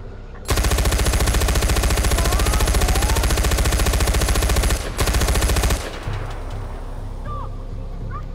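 A turret gun in Far Cry 4 roars in a long, loud, continuous burst of rapid fire, breaks off for a moment, fires again, then stops, leaving rumbling background game noise.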